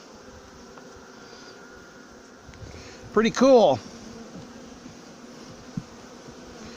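Honeybees hum around a nuc hive frame being prepared for winter, a steady buzzing drone that swells louder for a moment as bees fly close, with a brief spoken remark partway through.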